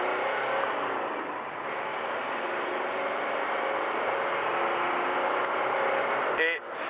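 A Ford Fusion with black smoke and no power, running without its airbox, drives steadily with a loud continuous engine drone and road roar heard from inside the cabin, fading slightly at the very end.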